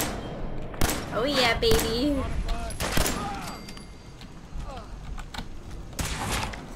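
Turret gunfire in the video game Fallout 4: a few sharp, loud shots and bursts spaced irregularly, with someone talking over and between them.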